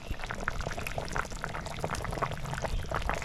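Fish curry bubbles vigorously in a pot, a dense, continuous stream of close popping and gurgling with no voices.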